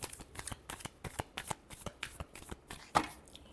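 Tarot cards shuffled close up in quick, rhythmic riffles: a string of crisp papery flicks and taps, alone and fairly soft.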